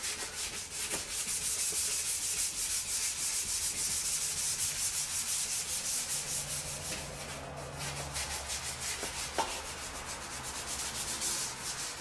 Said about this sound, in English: I get right up against that door handle without sandpaper rubbing that tape.